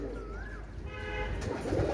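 Pigeons for sale, Omani teddy and Rampuri breeds, give soft low coos in a steady rhythm, with a brief higher whistle-like call near the start and faint background noise throughout.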